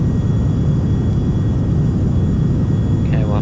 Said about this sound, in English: In their own private jet.